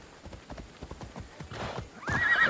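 A horse's hooves clip-clop in a quick, even rhythm in Assassin's Creed Odyssey, close and clear, before the animal lets out a loud whinny at the end.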